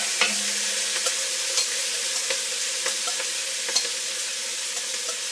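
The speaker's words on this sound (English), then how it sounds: "And then the veggies go back in." Vegetables go back into a pot with butter for beef bourguignon, giving a steady soft sizzle of frying under repeated light scrapes and clicks of a spoon stirring, close and even throughout.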